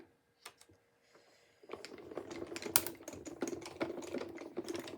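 Thin paper is cut for card making. A few isolated soft taps come first, then a close, steady run of crisp, rapid crackling cuts.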